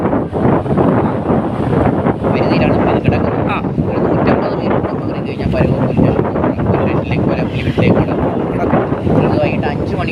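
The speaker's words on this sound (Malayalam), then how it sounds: "അപ്പോൾ നല്ല കാറ്റുണ്ട്" Strong, gusty wind on a beach buffets the microphone in a continuous roar, with voices faintly mixed into the blustery noise.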